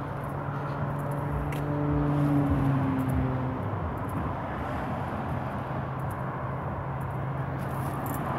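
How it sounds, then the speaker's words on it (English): Road traffic on the nearby A27 six-lane dual carriageway heard from a creekside path, a continuous distant roar with one vehicle passing more loudly early on. "But you probably hear the traffic."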